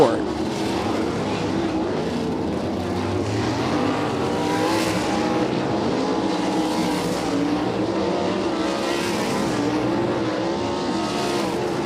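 Sprint cars roar through hot laps on the Kokomo dirt track, a steady loud engine drone that rises and falls as cars pass, with an announcer talking over it throughout.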